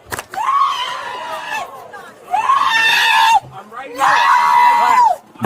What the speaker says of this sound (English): Listen to her scream.